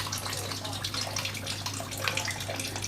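Water drains out of an opened can of mixed vegetables in a kitchen, a continuous splashing trickle with a faint low hum underneath.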